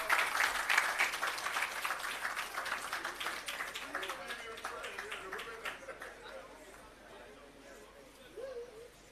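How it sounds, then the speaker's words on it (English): Crowd applause at the opening of the Parnassus Agro Park for a woman who occupies 5.6 acres of farmland. Dense, loud clapping fills the first seconds, then thins and fades, leaving birds chirping in the open air. "Please give her a round of applause"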